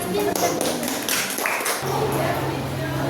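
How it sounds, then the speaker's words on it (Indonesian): A classroom audience claps for a presenting group, and the brisk, busy patter of hands runs through the opening before giving way to a steadier tone and general room noise. "tepuk tangan lagi"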